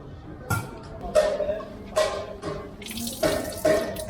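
Water running from a tap at a street food stop in Palestine, short bursts of splashing flow starting and stopping repeatedly, close by and fairly quiet.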